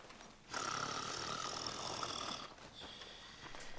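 A man in the video game Red Dead Redemption 2 gives a long rasping snore drawn in over a couple of seconds, then a softer, shorter snore following, heard close with no talking.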